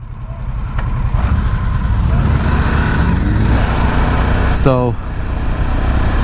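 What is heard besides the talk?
Harley-Davidson Sportster S motorcycle engine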